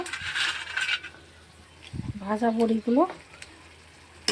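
A brief burst of hot-oil sizzling flares up as fried lentil dumplings go into a pan of drumstick leaves, then fades as a person speaks over the quieter pan.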